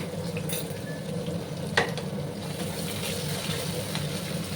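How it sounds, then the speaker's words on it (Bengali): Potatoes with grated ginger and garlic frying together in a pan, a steady close sizzle with a low hum underneath and one sharp stirring clack midway, no talk. "একসঙ্গে আমি আবার ভেজে নিচ্ছি বন্ধুরা, যাতে করে আদা রসুনের কাঁচা গন্ধটা চলে যায়।"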